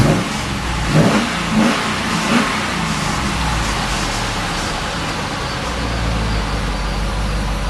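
A 2005 Chevrolet SSR engine runs steadily with a couple of brief rev surges near the start, then settles into a loud, continuous idle rumble, close by with no talking.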